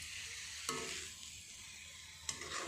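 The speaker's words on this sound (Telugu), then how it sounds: "ఇలా వేసుకొని కొంచెం మెల్లగా కలుపుకోవాలి." Mushroom masala curry sizzling steadily as it fries in a pan, with two sharp scraping clicks of a spoon stirring through the spices, no voices present.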